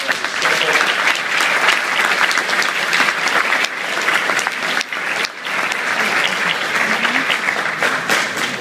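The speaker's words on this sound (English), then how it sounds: "I'd like to really give a sincere round of applause to Jim for taking time" An audience at WonderCon 2013 gives Jim Lee a sustained round of applause, a thick continuous roar of many hands clapping throughout, loud and even with a brief dip midway, no voices on top.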